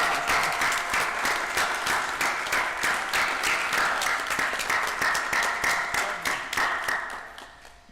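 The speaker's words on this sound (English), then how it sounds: "Can we give them a hand?" Applause from the audience at a school district board of trustees meeting, sustained clapping from a room of people for several seconds, then tapering off at the end.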